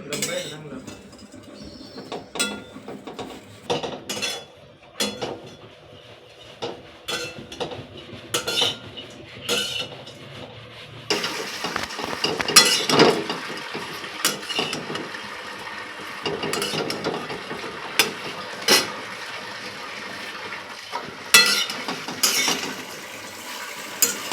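Grated coconut roasting over a low flame in a pan for a village-style masala, stirred with a utensil: intermittent scrapes, clinks and knocks against the pan, sparse at first, then busier and denser.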